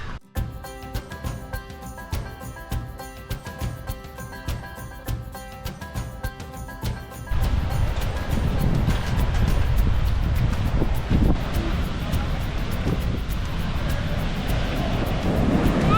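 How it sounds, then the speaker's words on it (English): Strong ocean surf breaks on Black Sand Beach along Maui's Road to Hana. A steady, loud roar of waves is mixed with gusty wind buffeting the microphone, and some tonal sound comes before the surf takes over. "the waves are strong"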